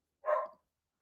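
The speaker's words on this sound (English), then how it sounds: "I think Bugsy's barking a little bit too much" A single short, muffled dog bark from indoors, heard once in otherwise quiet surroundings.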